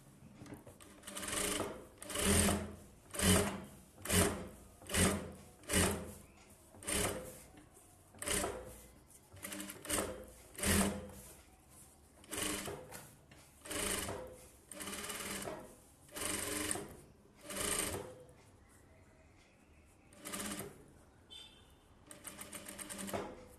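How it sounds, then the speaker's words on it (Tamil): Sewing machine stitching along the edge of a blouse, running in a steady series of short rhythmic bursts with brief pauses between them, close and clear with no talk. "நம்ம எஜ்ஜு தையல் போடுவோம்"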